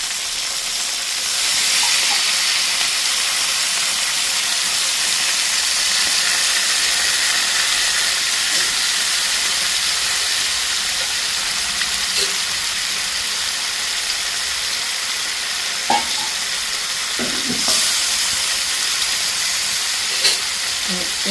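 Onions and fish sizzling in a pan for a Jaffna-style fish curry, a continuous loud hiss of frying with a few faint clinks and scrapes, no talking.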